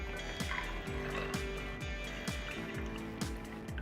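An apple cider and maple bourbon cocktail pours from a shaker into a fancy glass over ice, a steady gurgling stream with regular glugging pulses, close and continuous.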